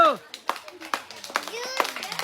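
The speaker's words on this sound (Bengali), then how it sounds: "জোরে হাততালি।" Children clap their hands in a quick burst of sharp slaps, with a voice and an adult's voice speaking between and over the claps.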